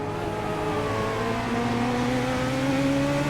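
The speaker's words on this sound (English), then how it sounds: "just suddenly heard the engine revving behind me." Engine of a Legends Coupe race car on the Charlotte Legends oval in the iRacing simulator, a steady loud drone at high revs with layered engine tones, continuous and without speech.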